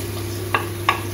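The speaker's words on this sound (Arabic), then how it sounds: "هنايا هو البصل بدا كيعطي ريحه واحد شويه هو والثوم، غادي نضيف الدجاج" Chicken goes into a pan of frying onion and garlic and is stirred, with two short scraping strokes over a steady low hum and faint sizzle.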